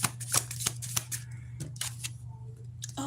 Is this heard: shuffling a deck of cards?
yes